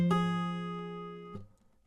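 Acoustic guitar fingerpicking pinch with a pull-off that flicks the open first string, one bright plucked chord ringing and slowly fading, then a second quieter pluck near the end, close and soft with no talk.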